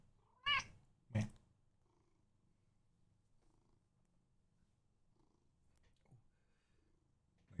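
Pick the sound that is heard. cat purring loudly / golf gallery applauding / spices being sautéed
cat purring loudly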